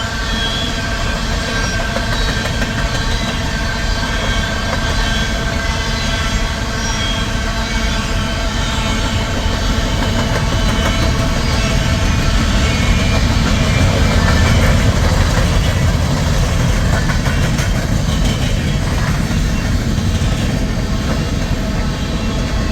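A long coal train rolls past at Pacific Junction, Iowa, with a loud, continuous rumble of wheels and locomotive engines, steady throughout and close by.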